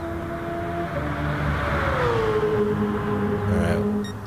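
Race car engine screaming at high volume during a GT Champions sim racing stream, a sustained high whine that climbs and shifts pitch through gear changes over a steady low rumble, loud and continuous.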